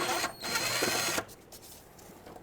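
A power tool runs on the 10mm mounting nut of a front ABS sensor on a 2010–2017 Chevrolet Equinox, a close buzzing whir in two bursts over about a second that then drops to quiet shop ambience.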